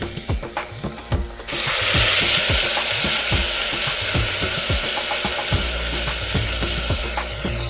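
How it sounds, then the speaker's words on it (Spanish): Onions and garlic sizzle and fry in a pan, a loud steady hiss swelling as vegetable broth is added, with spoon stirring clinks and scrapes repeating throughout. "Desglaso las cebollas con un poco de caldo de verduras"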